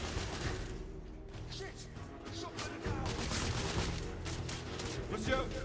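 Gunfire in the video game The Order: 1886, a steady, dense spray of shots and impacts under a busy battle mix, with someone talking over it.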